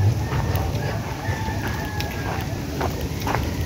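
Chickens and roosters at a game farm, with crowing and clucking carried over a steady outdoor background, several birds calling at moderate distance while low voices murmur faintly.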